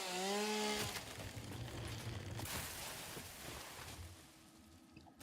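A chainsaw roars in the video game Project Zomboid, running steadily and loud for about five seconds after a brief tonal sound at the start, with no talking.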